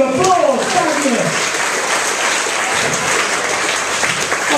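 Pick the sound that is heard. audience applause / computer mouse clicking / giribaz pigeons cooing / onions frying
audience applause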